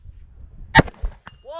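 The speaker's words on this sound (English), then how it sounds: "Shoot the circle." A rifle or pistol shot in a two-gun shooting match, a sharp crack followed by a faint distant ring of steel, then a short voice at the end.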